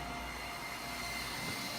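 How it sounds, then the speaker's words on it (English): Steady broadband rushing hiss of air trapped in the water lines of a running valve test bench, a constant even noise with a low hum underneath, heard alone without talk. "That noise is the air in the lines."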